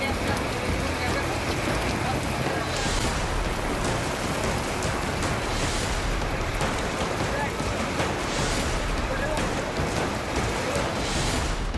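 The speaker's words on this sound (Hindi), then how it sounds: "धार इतनी तेज मानो सड़कों पर दरिया उतर आई।" Heavy rain pours down over flooded Mumbai streets, a loud continuous hiss of falling water with no breaks throughout.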